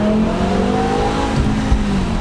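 A BMW M6 V10 engine revving: a loud, steady, high-pitched engine note holds close and continuous from inside the car, with no talk over it.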